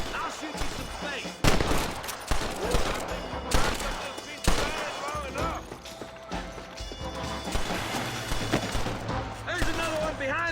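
Gunfire in the Western video game Red Dead Redemption, repeated shots cracking out through a dense mix of game music and effects, with a voice speaking over the action.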